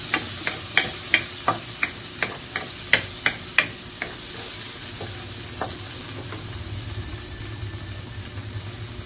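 Garlic and tomato stir-fried for ampalaya con carne, with a run of sharp, evenly spaced spatula scrapes against the pan over a steady sizzle, the strokes thinning out as frying continues.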